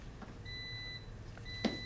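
Electronic beeping from a device, a few thin steady tones rising and stopping, with one sharp short click near the end, fairly faint over a quiet room hum.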